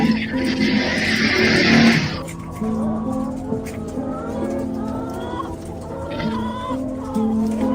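Laying hens cluck and squawk in a hatchery setting, a busy overlapping chorus with a loud burst of noise near the start, while a voice narrates over the birds.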